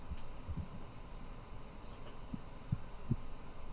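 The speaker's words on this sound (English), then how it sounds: "That heartbeat sound?" Low, muffled heartbeat-like thuds from a lodge in Twin Peaks, a few soft paired pulses over a steady low hum, faint and without any talk.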